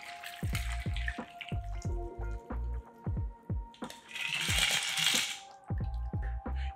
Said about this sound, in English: we're gonna fine strain it into a chilled cocktail coupe.